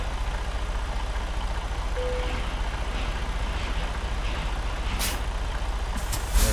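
A heavy truck idles and creeps in reverse while coupling onto a trailer kingpin in American Truck Simulator, a steady low engine rumble throughout with a sharp air-brake hiss near the end.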